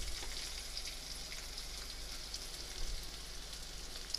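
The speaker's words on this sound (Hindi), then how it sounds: "हल्दी भी देखिए तेल में अच्छे से पक गई।" Turmeric frying in hot oil with okra for a spicy dry achari bhindi sabzi, a steady close sizzle with fine crackling pops running throughout, no voices.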